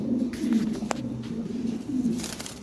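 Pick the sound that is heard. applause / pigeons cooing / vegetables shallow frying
pigeons cooing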